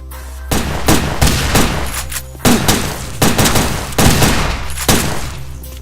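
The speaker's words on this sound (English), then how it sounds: "Now let's see what the shotgun is actually good for." A shotgun in the video game Headhunter fires in a loud, rapid string of about eight blasts, each a sharp boom with a short rumbling tail, spaced fairly evenly over a few seconds.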